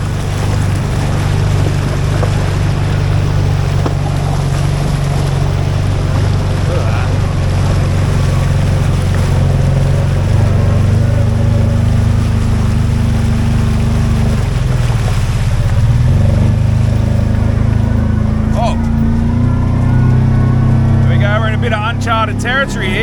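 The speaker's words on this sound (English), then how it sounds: "Our first river crossing." A Toyota Troopy four-wheel drive crosses a river in the Tasmanian wilderness, its engine a steady, loud low rumble mixed with rushing water the whole way through, and voices come in near the end.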